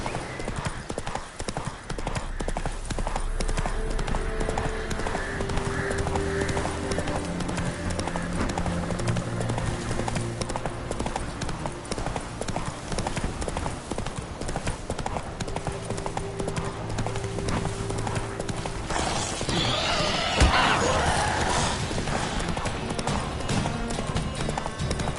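A horse in The Witcher 3 gallops with continuous rhythmic hoof clip-clops over a game soundtrack, with a brief louder flurry of activity partway through.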